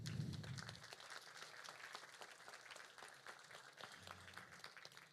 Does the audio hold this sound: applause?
yes